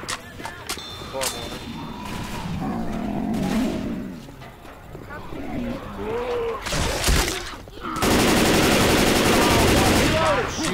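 Rapid gunfire and shattering impacts in Left 4 Dead 2, bursts of shots mixed with game sounds and voices, building to a loud, dense stretch of firing near the end.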